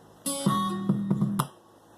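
A short plucked guitar phrase from the Ample Guitar software plugin: a chord strum followed by a few quick single notes, clear and close, ending in quiet.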